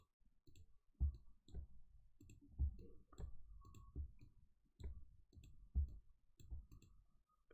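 Computer mouse clicking while Control is held in Excel, a series of soft, close clicks in an irregular rhythm with no voices.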